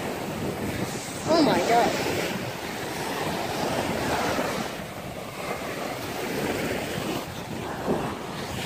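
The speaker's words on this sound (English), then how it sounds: "Bro, these waves. And this wind." Wind buffets the microphone while ocean waves wash and roar nearby, and a person briefly exclaims over the noise.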